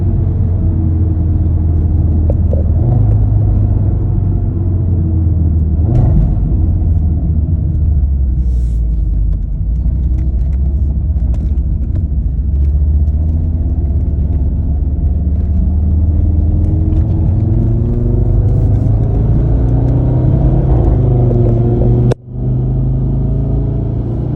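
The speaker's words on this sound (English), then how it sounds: "I like to focus on driving and just feeling the car pull." A 2018 Audi TT RS accelerates hard through the gears, its engine pulling with a loud, steady droning rumble whose pitch climbs in long sweeps, broken by a brief dip near the end as a shift occurs.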